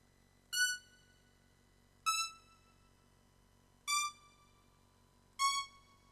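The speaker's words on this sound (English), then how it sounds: "These are the actual notes" Four short, bright synthesizer stabs sound at an even, unhurried pace, each one a sharp attack that quickly fades into near silence.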